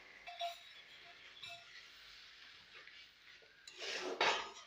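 Quiet metallic clinks and scrapes as a lid is set onto a cooking pot of simmering curry, ending in a louder, brighter clatter near the end.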